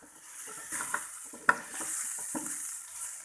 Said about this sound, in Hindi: अब हम इसे मज़ीद 2 मिनट के लिए अच्छे से उसी ऑयल के अंदर